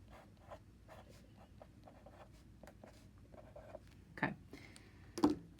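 Pen or marker writing out a math solution by hand, a series of soft scratchy strokes in a quiet room, with two louder taps or knocks near the end.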